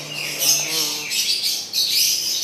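Songbirds chirping and trilling at a bird kiosk for bird lovers in Jakarta, a dense, loud, continuous mix of overlapping calls, with faint voices underneath.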